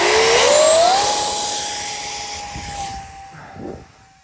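Small RC model B-1B jet plane flying past, its ducted-fan whine rising in pitch then holding a steady high tone as it moves away, fading slightly with some wind rumble.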